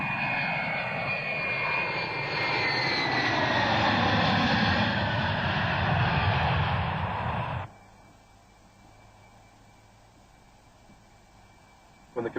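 Loud, steady roar of a charter airplane's engine from Moscow arriving in Siberia, cutting off abruptly partway through, leaving near silence with a faint hum.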